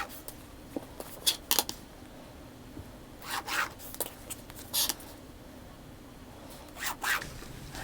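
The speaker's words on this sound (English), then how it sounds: "I'm going to go to the wrong side of the fabric and draw the lines like so" A pen marks lines on the wrong side of quilting fabric for flying geese blocks: faint, scattered scratchy strokes in short bursts, close but quiet, with no one speaking.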